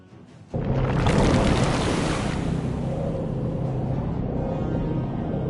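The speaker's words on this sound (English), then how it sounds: "The gathered evilness then burst the nearby dam, and the Alliance's camp disappeared under waves of water with a very satisfactory gurgling sound" A burst dam floods a camp in Dungeons 2, a sudden loud rush of water surging in after a quiet start, then a steady roaring, churning wash that carries on for several seconds without voices.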